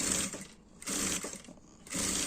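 Sewing machine running in three short bursts with brief pauses between them, stitching a fabric lining for a baby's toiletry bag, close and fairly loud with no talking.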